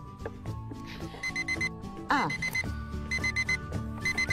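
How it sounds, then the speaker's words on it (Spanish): An alarm clock rings in repeated electronic beeping bursts, fairly loud and steady, with a brief voice exclamation partway through. "Puse esta alarma para acordarme cada vez que me toca una pausa activa"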